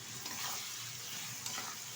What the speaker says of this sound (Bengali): এবার কষিয়ে নেব।